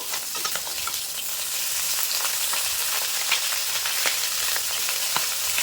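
Several small mixed fish sizzle in hot oil, a dense, continuous frying hiss close by, dotted with sharp pops and spatters throughout and with no talking.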